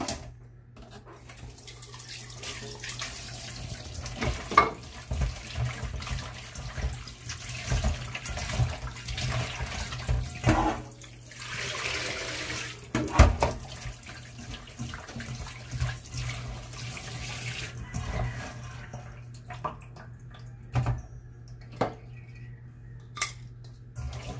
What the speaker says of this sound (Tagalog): saka natin hugasan